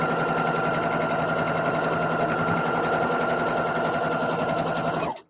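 A sewing machine running a back stitch hums loudly and steadily with a fast repetitive needle chatter, stopping abruptly at the end.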